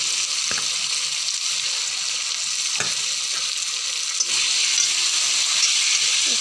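Taro pieces fry in a pan with turmeric and salt, giving a steady, close sizzle with a few soft knocks and stirring clatters scattered through it.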